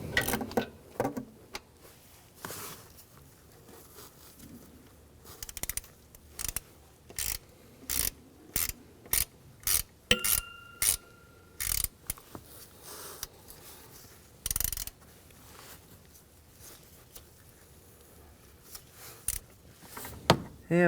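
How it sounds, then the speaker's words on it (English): Ratchet with a 10mm socket tightening a bolt on a variable valve timing solenoid of a 2015-2019 Hyundai Sonata, heard as a string of quick, close clicking bursts with short pauses, no talking. "And with a 10mm socket, we go ahead and tighten that down."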